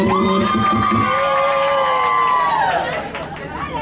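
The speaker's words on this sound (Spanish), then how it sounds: "Aplausos de motivación para número dos." A crowd at a party aboard the yacht Triton off San Andrés Island cheers and shouts loudly, with excited voices and whoops over music, then eases slightly at the end.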